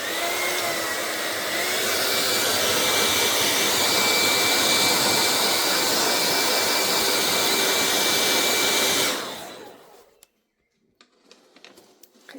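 A dryer blowing hot air to dry paint on a notebook, a loud, steady whooshing roar with a faint whine that runs for about nine seconds and then cuts off, leaving a few quiet taps.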